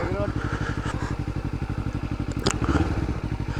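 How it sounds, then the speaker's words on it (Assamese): A Kawasaki Ninja 300 motorcycle idles close by, its engine putting out a steady, rapid pulsing thrum with a brief rev near the end, while someone speaks over it. "এইখন নিঞ্জা 300 হয়।"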